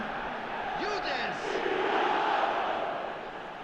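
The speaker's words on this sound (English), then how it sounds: "The crowd are calling for this to be put to bed." A stadium crowd in an eFootball match during added time roars steadily with a rising swell and a few shouted calls, a commentator-like voice faintly under the din.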